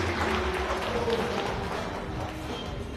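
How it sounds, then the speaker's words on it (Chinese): Press conference audience applauding to welcome the grandson, Liu Youqian, a steady wash of many hands clapping at moderate distance, even in level throughout with a faint voice briefly audible underneath. "我们现在掌声欢迎外孙啊"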